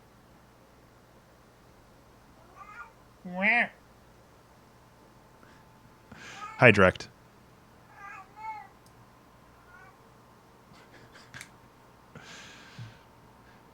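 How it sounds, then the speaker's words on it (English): A pet cat caterwauls in a few drawn-out, wavering meows spaced across the clip, loud and close, with someone briefly talking to it between calls. "are you making noise, kitty?"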